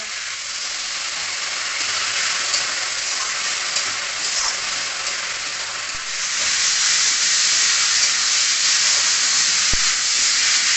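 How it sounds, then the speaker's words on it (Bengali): A spice paste of ginger and cumin fries in a pan, giving a loud, continuous sizzling hiss close by that swells stronger partway through, with occasional faint clinks and no talking. "মশলাটা এই যে ভাজা ভাজা একদম হয়ে গেছে"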